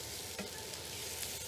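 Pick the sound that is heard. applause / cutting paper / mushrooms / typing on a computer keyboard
mushrooms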